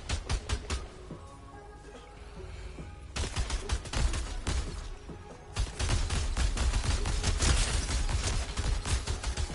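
Rapid automatic gunfire in Fortnite, bursts of sharp shots at fluctuating distances with brief lulls, growing denser and louder toward the end; no talking over it.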